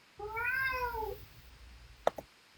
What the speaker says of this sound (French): c'est mon chat qui crie en arrière